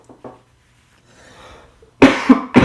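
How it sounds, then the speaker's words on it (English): A person coughs up close: two small throat sounds, a soft breathy pause, then two loud harsh coughs near the end. "Just a cough, don't worry."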